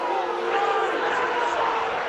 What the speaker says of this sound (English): Crowd appealing for a penalty.